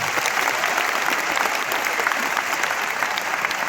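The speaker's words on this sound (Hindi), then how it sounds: "सो जितने हमारे नए अचीवर्स हैं उनके लिए एक जोरदार तालियां होनी चाहिए।" A crowd at an anniversary celebration gives a burst of loud, dense applause for new achievers, with many rapid overlapping claps sustained throughout.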